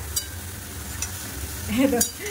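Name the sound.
frying panch phoron spices with dried chili and bay leaf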